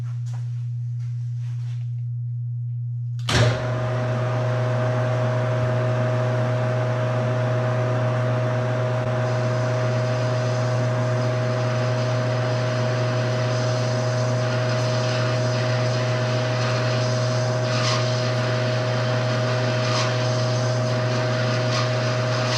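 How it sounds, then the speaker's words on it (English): A lathe with a parting blade cuts a bushing from bar stock. After a few quiet seconds, the machine starts abruptly into a loud, steady tonal motor whine and cutting drone that continues without letup, with no speech. "let's dispatch the parting blade and liberate this bushing from the stock"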